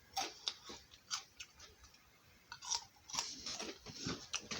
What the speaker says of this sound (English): I know I'm crunching